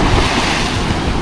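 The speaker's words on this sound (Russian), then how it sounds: "Ветер, море, шторм." Stormy sea waves and strong wind on the beach at Lazarevskoye, a loud, steady roar of surf and gusting wind buffeting the microphone, filling the whole short stretch without a break.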